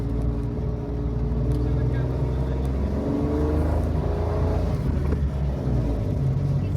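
Car engine held at speed while climbing a slope, a steady loud low drone throughout with road and wind noise, and voices talking over it.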